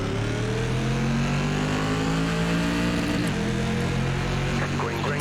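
An SK Modified race car in iRacing at Martinsville Speedway bangs against its rev limiter, a loud, steady engine drone with stuttering harmonics and a brief dip, unbroken from start to finish.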